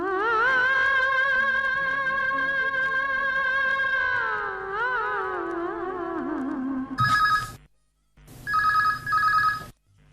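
A telephone rings on a radio phone-in show at an Akola station, two loud electronic bursts arriving near the end after several seconds of sustained sung music.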